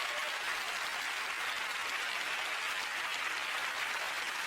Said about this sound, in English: Give these two people a round of applause.